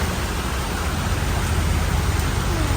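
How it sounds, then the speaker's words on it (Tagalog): Steady rain falls as a dense, even hiss with no breaks, loud and close, with no voices over it. "Raining."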